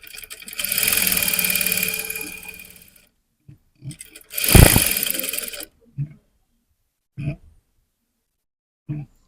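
A sewing machine stitches the dead ends of a garment's back part, with a long whirring run, a brief pause, a second loud burst, then a few short isolated stitch bursts separated by silence.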